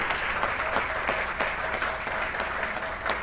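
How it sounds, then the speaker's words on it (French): Warm crowd applause and cheering at an anniversary dinner celebration in Peoria for honored couples, continuous and fairly loud with a few distinct sharp claps standing out. "On acclame un peu fort, on acclame très fort pour ces couples."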